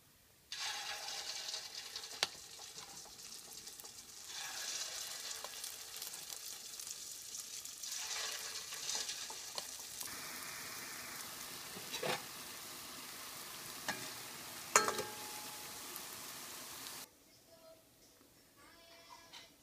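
Rice batter for thean mittai honey candy frying in oil, a steady broadband sizzle that swells and eases in waves for most of the clip before dropping to a quiet hiss near the end.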